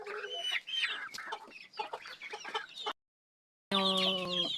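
Backyard Rhode Island Red and native chickens clucking busily at close range, overlapping calls forming a steady chatter that breaks off briefly, then resumes louder with a more sustained, tonal call.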